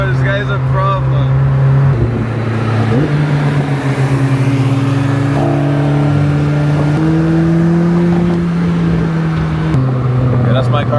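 A car engine revs loudly and steadily, its pitch stepping up and down across several throttle changes, close by and continuous throughout.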